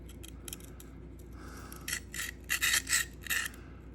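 An S110V steel knife blade stroked across a Sharpal field sharpener, a string of quiet rasping scrapes that grow into several louder, rhythmic strokes near the end.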